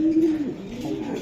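A racing pigeon gives a low resonant coo, one drawn-out throaty call followed by a softer rumbling trail, close and clear.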